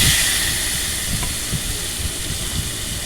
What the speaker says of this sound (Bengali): ওই তেলের মধ্যে সামান্য নুন আর খুব সামান্য পরিমাণ হলুদ দিয়ে আমি চিংড়ি মাছগুলোকে ভেজে নেব